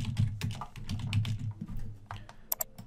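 Keystrokes on a computer keyboard tap out a name in quick, irregular bursts at close range with no speech, the clicks fairly soft against a quiet room.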